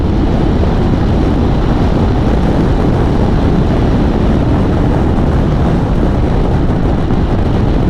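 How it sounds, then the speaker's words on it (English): A 2023 BMW F 900 XR motorcycle under way, its engine and heavy wind rush forming a loud, constant roar with no break throughout, close to the rider's microphone. "My goodness, this bike certainly goes, doesn't it?"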